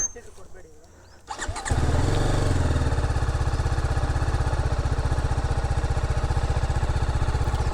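BMW G310RR motorcycle engine starting up, then running with a steady, rapid, throbbing single-cylinder pulse close to the listener, after a brief quiet moment with a few handling sounds at the start.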